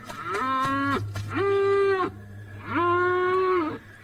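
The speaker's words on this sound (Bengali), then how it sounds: "গরুগুলো এত ডাকছে কেন দেখি তো।" Cartoon cows in a Bangla animated story give three long, loud, drawn-out moos in a row, each separated by a brief pause.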